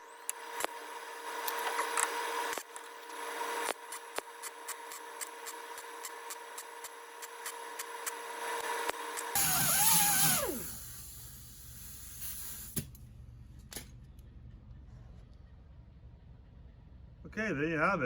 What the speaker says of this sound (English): So we'll just tack that in